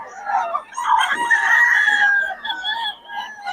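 Chickens cluck and crow nearby, several birds calling over one another in a busy, continuous chorus.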